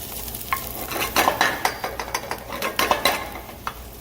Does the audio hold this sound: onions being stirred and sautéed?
yes